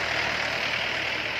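A farm tractor engine runs steadily in rural Na Yia, Ubon Ratchathani, producing a continuous low, droning rumble with no breaks.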